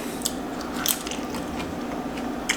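Close, wet chewing of a high-protein sandwich, with irregular soft crunching bites and mouth sounds and no talking.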